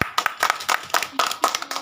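A small group claps for the winning team at a village plastic-glass stacking game, giving quick, uneven bursts of nearby hand claps that carry on without pause for about two seconds.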